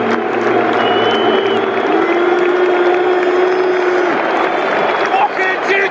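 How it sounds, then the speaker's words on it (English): A packed Anfield crowd at Liverpool versus Arsenal reacts to a substitute with mixed applause and drawn-out boos, a loud, sustained wall of clapping and jeering close around the listener. "Trent's just come on to a mixture of applause and boos"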